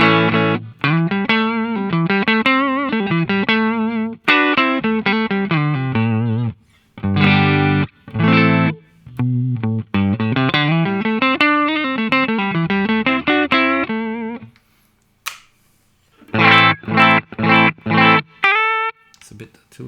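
An electric guitar plays through a Bogner Goldfinger 45 amp with its boost engaged, giving a loud, driven tone across bursts of fast melodic runs and chopped chords separated by short pauses.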